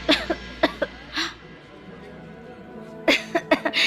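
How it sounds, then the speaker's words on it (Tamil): Several short, sharp coughs from a person in a domestic drama scene, a quick cluster at the start, then a pause, then another burst of coughs near the end, close and fairly loud. "எதுக்கு திடீர்னு இருமல் வருது தெரியல."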